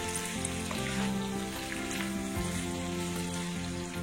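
Spice paste for elephant apple pickle fries in a pan with a steady, close sizzle and crackle, broken now and then by stirring, and no voices over it.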